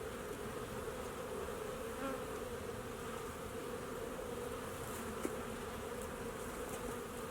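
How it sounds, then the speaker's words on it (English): Honey bees buzz in a dense, continuous drone while a Colorado beehive's boxes are opened for inspection, a close, steady hum with no voices over it. "I see some bees carrying pollen."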